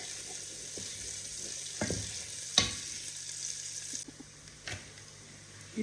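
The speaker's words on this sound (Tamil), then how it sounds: "போட்டு நல்லா இஞ்சி பூண்டு பேஸ்ட் வெங்காயத்தோடு சேர்ந்து வதங்குற அளவுக்கு நல்லா வதக்கி கொள்வோம்" Ginger garlic paste and onions sautéing in a pan, with a steady hiss of frying broken by a few sharp clinks of stirring.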